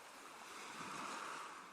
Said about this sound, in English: The waves wash against the beach, gently shushing the land to sleep.